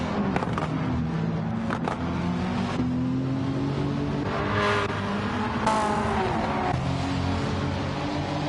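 Race car engines roar continuously in Gran Turismo 7 at the Nurburgring, a Corvette C5 Z06 and a BMW M3 CSL among the early-2000s sports cars, with pitch rising and falling through gear changes and brief tire squeal, loud and steady.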